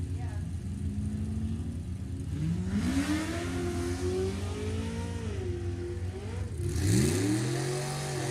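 Drag race cars, including a 2002 Corvette, accelerating down the strip with rising engine tones sweeping upward, moderately loud and somewhat distant, under an announcer's voice.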